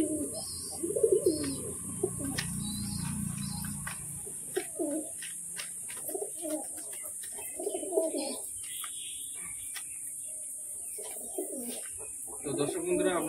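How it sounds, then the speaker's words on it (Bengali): A male domestic pigeon fights hard with another pigeon while wild pigeons are about, giving intermittent coos and sharp scuffling flaps and knocks that come and go over several seconds, near and moderately loud. "নর পায়রাটা অন্য পায়রার সাথে প্রচন্ড পরিমাণে মারপিট করছে"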